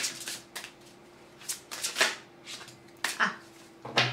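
Oracle cards being shuffled by hand, heard close up as a run of crisp, riffling bursts with short pauses between them.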